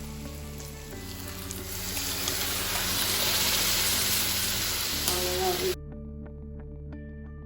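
A pan of kosthu, an eggplant curry, bubbling and sizzling loudly and steadily for several seconds, then cutting off abruptly into quiet.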